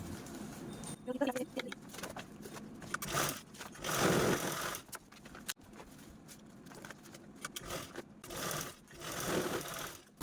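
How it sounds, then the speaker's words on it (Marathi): Sewing machine stitching the side seam of a cloth piece cut from a blouse piece, heard as irregular bursts of close mechanical whirring and clatter that start and stop, with someone speaking over it. "आता अशाच पद्धतीने आपण राहिलेला दुसऱ्या बाजूस आपण स्टिच करून घेऊया"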